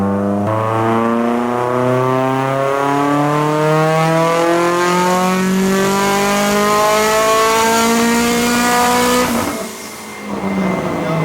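A loud, rising turbocharged Mitsubishi Evo engine rev under heavy load on a dyno, pitch climbing steadily for several seconds before cutting off with a brief drop and recovery.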